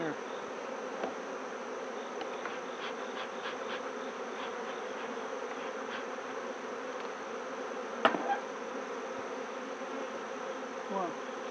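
A close, constant drone of honeybees fills an open hive being inspected, with scattered clicks and knocks of frames and tools and one sharper tap partway through.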